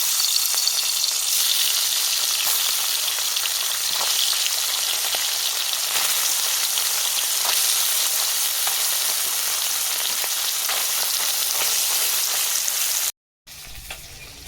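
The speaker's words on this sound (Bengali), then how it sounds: "তেল গরম হয়ে গেছে মাছ দিয়ে দেবো" Fish sizzles steadily in hot oil in a pan, making a loud, dense, continuous crackle that runs unbroken until a brief cutout near the end.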